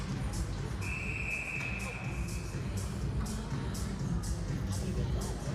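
A referee's whistle at a junior ice hockey game between Waterloo and Lincoln gives one sustained shrill blast over steady arena crowd murmur.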